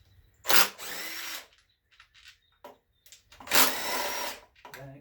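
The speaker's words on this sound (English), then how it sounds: "the intake manifold bolts loose with a impact driver" An impact driver breaking loose intake manifold bolts on a GM 2.4 Twin Cam engine, two loud, close whirring bursts of about a second each separated by quieter clicks and small handling noises.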